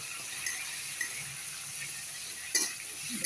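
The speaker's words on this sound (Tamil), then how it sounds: "வதக்கி லேசாக ஒரு நிமிஷம் வதக்கி எடுத்துக்கிடுவோம்." Chicken sizzling and being stirred in a pan while cooking for chicken masala gravy, a steady frying hiss with a few light utensil scrapes and one sharper clatter near the end.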